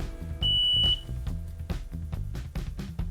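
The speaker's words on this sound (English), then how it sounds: "we have got the beep going on the machine to basically say we're now running off battery power." A single short, steady electronic beep from a Liebert PSA UPS running on battery power sounds once over a low mechanical hum and some clatter.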